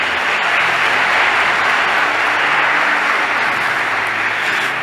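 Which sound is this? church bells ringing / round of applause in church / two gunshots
round of applause in church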